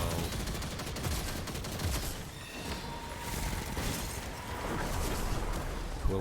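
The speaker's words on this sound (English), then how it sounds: "I've loved this machine gun since it came out in D1 as well" A machine gun fires in Destiny 2 in rapid, sustained automatic bursts, loud and close, with impacts and crackling effects layered over it.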